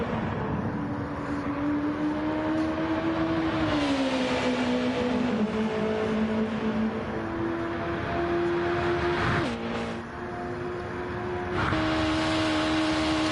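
Race cars on the Mulsanne Straight at Le Mans, in a sim-racing practice session: a sustained high engine drone holding steady, with pitch steps at gear changes and a brief dip near the end.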